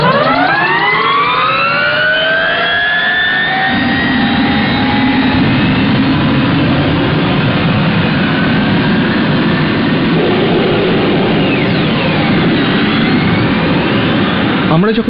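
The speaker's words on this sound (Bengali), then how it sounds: "Y2K এর একটা আওয়াজ আছে যা অন্য কোনো বাইকের নেই।" A Y2K turbine-powered superbike howls loudly and continuously, a jet-like whine with rising and sweeping pitch as the engine revs up and holds high over a dense roar.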